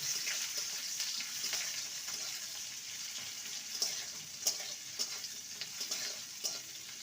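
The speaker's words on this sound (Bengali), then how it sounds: "দিয়ে দেবো পেঁয়াজ কুচি পেঁয়াজটাকে হালকা ভেজে নেব" Chopped onion frying in oil with garlic for a Bengali lau shak and red lentil dish, a steady soft sizzle with faint stirring clicks and scrapes, fairly quiet and close, no talking.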